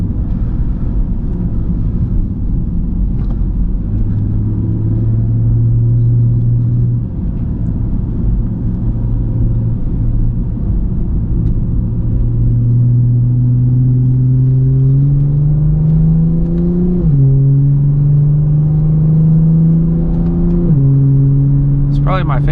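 A Lexus IS250 F Sport sedan engine pulls steadily while driving, its pitch climbing through each gear and dropping sharply at quick upshifts around the middle and near the end, loud and close from inside the cabin.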